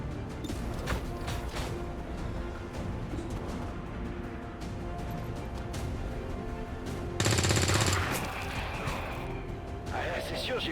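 Gunfire in XCOM 2: War of the Chosen, a few sharp shots and a louder crashing burst partway through, over steady game background noise, with someone talking throughout.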